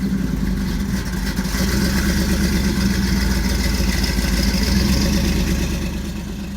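A deep, throaty car engine rumbles steadily at idle, loud and close, with a slight swell in revs partway through.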